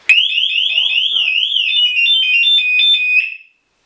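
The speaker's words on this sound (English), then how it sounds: "I won't go into too much detail about this alarm" Motorbike security alarm set off as the bike is lifted, a loud, close electronic siren that warbles rapidly up and down for about three seconds before cutting out.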